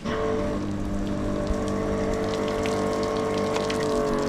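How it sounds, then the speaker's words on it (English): Water sprays steadily from the bristles of a Karcher WB7 3-in-1 brush, making a continuous close hiss and patter that holds even from start to finish. "if you want the water to come out of the brush, you have to put this round to this side here"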